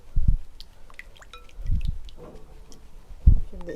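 A spoon stirring vinegar, dry yeast and sugar together in a bowl: three separate wet, squishy swirls close by, with quiet pauses between them.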